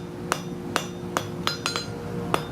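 Sharp, ringing hammer blows on hot steel at an anvil while hand forging a branching scroll, six distinct strikes at uneven intervals, fairly close, over a low background hum.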